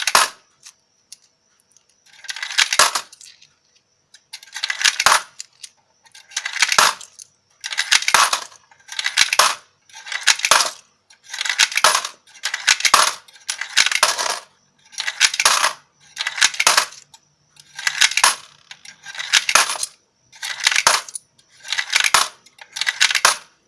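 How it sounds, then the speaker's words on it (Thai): Thai 5 baht coins, a mix of thick and thin ones, are dropped one after another into a multicoin coin acceptor. Each lands with a bright metallic clatter in a steady, evenly spaced series of about twenty drops, close and alone. "หยอดลงไปเหมือนเดิมจำนวน 20 เหรียญครับ"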